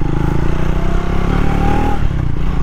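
A Triumph Speed 400 motorcycle engine pulls hard and close, its throbbing note climbing in pitch, then briefly dipping around a shift before pulling again.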